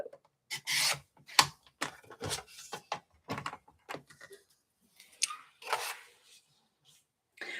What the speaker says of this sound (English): I'm just trimming it to 1/2 inch.